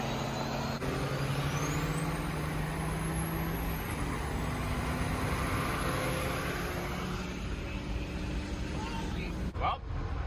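An 800hp second-gen truck races in the video game Offroad Outlaws, its engine droning steadily with rising whine and turbo hiss throughout, ending in a brief air-brake-like burst near the end.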